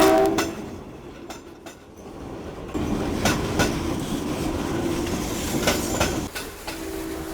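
A train rolls past nearby, its rumble building after a quieter start into a sustained clattering roar with sharp clicks of wheels on rails and a brief horn-like tone.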